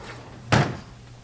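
A single wooden drawer in a bunk bed's staircase storage bumps shut with a short, solid knock against a quiet background hum.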